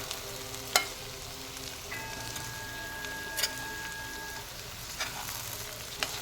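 Sweetcorn and brinjal curry cooks in an open pan with a steady low sizzle and a few sharp scraping stirs at intervals, close by and without speech.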